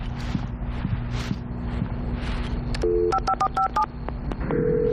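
A telephone in the video game Alan Wake is dialed, giving a quick run of tonal keypad beeps after a stretch of low ambient hum and gusty noise.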